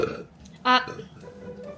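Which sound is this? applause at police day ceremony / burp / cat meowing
burp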